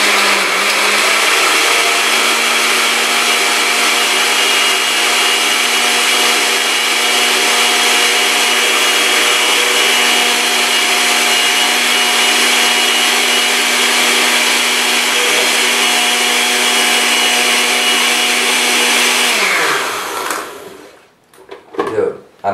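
A blender runs steadily at full power on blueberries, cranberry juice, cucumber and yogurt for a smoothie, a loud continuous whir that winds down and stops near the end.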